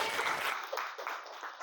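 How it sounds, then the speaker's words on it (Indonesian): Students in a high school maths class clap for a classmate, a quick burst of applause that starts full and then thins and fades within under two seconds. "Tepuk tangan buat Faiz."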